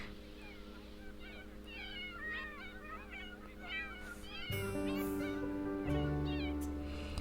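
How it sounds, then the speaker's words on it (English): Several cats meow repeatedly in a home life-simulation game, their cries rising and falling over steady background music, with a busier musical passage swelling near the end. "Unfortunately, the cats continue to just meow and not eat my food."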